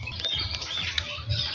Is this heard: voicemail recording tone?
no